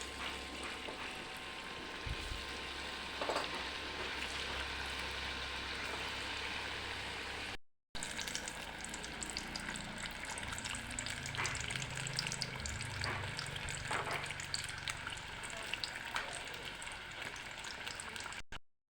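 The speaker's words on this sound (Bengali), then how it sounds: "এখন আর অল্প কয়টা আছে, ওটাও ভেজে নিই।" Food pieces deep-frying in hot oil in a home kitchen, giving a steady broadband sizzle and bubbling throughout with a brief cut partway, with no talking.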